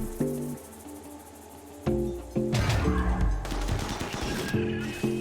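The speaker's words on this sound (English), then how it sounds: "there's still lots of enemies shooting" Bursts of gunfire from enemy fighters in a RimWorld battle, sharp cracks and rattling volleys breaking out after a quieter start over steady game music, then carrying on loud and dense to the end.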